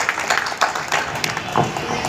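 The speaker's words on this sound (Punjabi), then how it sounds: "ਇੱਕ ਵਾਰੀ ਜ਼ੋਰਦਾਰ ਤਾਲੀਆਂ ਮਾਰ ਦਿਓ" Audience applause at an outdoor political meeting in Punjab, a scattered crowd clapping steadily with uneven bursts, moderately loud and fairly close.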